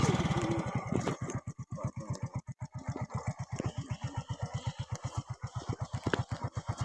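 A motorbike engine idles close by, a rapid steady chain of low pulsing beats with a slight rise and fall in its rhythm, alone and fairly loud.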